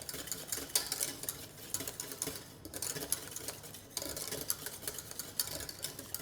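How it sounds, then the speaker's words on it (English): A whisk or spoon stirs an egg yolk pastry cream rapidly in a pot, giving quiet, fast, continuous scraping and clinking with brief pauses. "In this part, you need to stir very fast so that the texture will become smooth and shiny"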